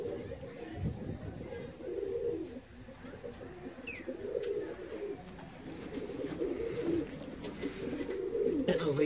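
Roller and racing pigeons coo in soft repeated low phrases, close and steady, with faint chirps and a few clicks in the background.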